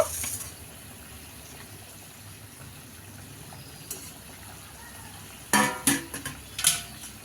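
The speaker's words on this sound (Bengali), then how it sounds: "আমি ঢাকনাটা ঢেকে দিলাম" A lid goes onto a pot of simmering parshe fish curry, heard as a few sharp metallic clatters near the end after a soft background bubble and hiss.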